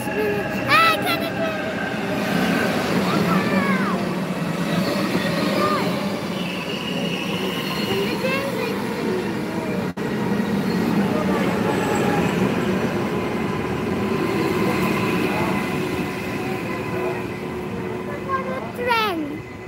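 A train sits at a station, its wheels squealing with high, wavering screeches over a continuous rumble, and people talk nearby throughout.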